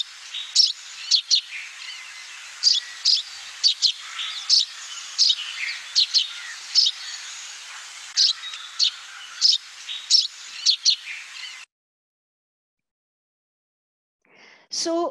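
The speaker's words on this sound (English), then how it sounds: "Here's the call of the house sparrow." A house sparrow gives repeated bright chirps in irregular bursts, close and clear, for about twelve seconds before a pause and a final short call.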